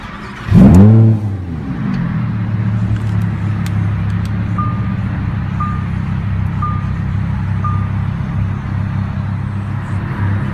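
A supercar V10, an Audi R8 V10 Plus or Lamborghini Huracan, fires up with a sharp loud starter burst and rev flare, then settles into a steady, rumbling idle, with faint periodic chimes in the background.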